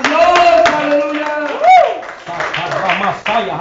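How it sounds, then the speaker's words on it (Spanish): A church congregation claps for God during a Spanish-language sermon, a brief burst of hand claps mixed with a preacher's loud voice, musical tones and room noise. "Este fuerte el aplauso a Dios"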